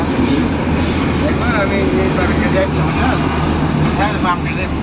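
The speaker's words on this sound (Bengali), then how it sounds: "ট্রেন যাইতেছে।" A train passing by near Kuril on the way to Mirpur, a steady loud rumble of rail cars with wheel clatter and faint squeals throughout, heard close, with voices talking over it.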